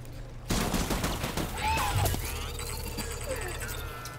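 Gunfire in the video game Death Stranding, a burst of rapid shots beginning abruptly after a short pause and running for several seconds amid a whooshing sci-fi game soundscape with a steady low hum.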